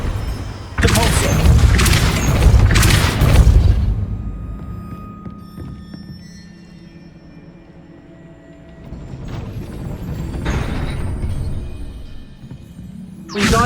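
Depulso spell blasts in Hogwarts Legacy, a video game: a loud booming burst with a rumbling tail, then quieter humming, then a second swelling blast, all close and with no talk.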